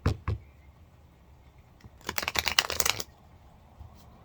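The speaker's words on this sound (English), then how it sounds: "I feel like I need to shuffle after that." A quick riffle of tarot cards being shuffled, a rapid rattling burst lasting about a second after a couple of soft taps, close by.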